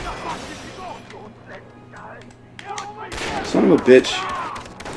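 Gunfire in the open-world shooter Far Cry 3: loud, dense shots break out about two-thirds of the way through after a quieter stretch, with a man swearing over the noise.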